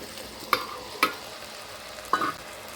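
Jackfruit curry frying in a pan, a steady low sizzle punctuated by three sharp scrapes of a spoon stirring against the metal, close and quiet with no voices.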